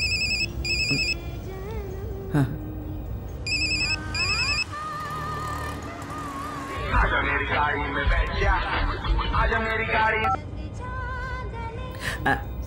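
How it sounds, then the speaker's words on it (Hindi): A phone ringtone plays in repeated electronic beeping bursts, followed by a busier melodic tune, with people talking over and around it. "आपका फोन बज रहा है सर"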